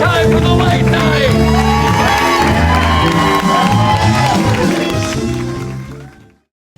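A live studio audience at the close of a late night show in Milwaukee cheers, whoops and shouts loudly and continuously over music, the roar holding steady before fading out abruptly at the end.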